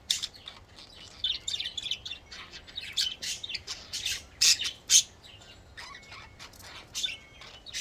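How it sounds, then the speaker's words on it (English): Protective birds squawk and chirp close by in sharp, irregular bursts, several louder shrieks standing out among quicker chatter, with no voices over them. "Very protective birds."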